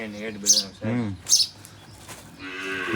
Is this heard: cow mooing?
yes